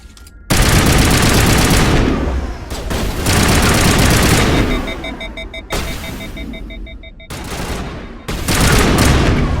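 Sustained automatic gunfire roars through a Mass Effect firefight in long, loud bursts broken by brief pauses, with beeping electronic tones mixed in.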